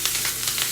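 Food sizzles in hot oil during keto breakfast cooking, a brief, steady, crackling frying hiss heard close up with no voices.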